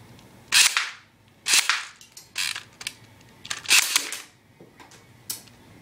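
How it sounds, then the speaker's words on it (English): An airsoft gun firing at Lego minifigures, about six sharp cracking shots at uneven intervals with quick rattling decays between them, close and loud, with no voices. "I'm gonna blow up some Lego minifigures with an airsoft gun."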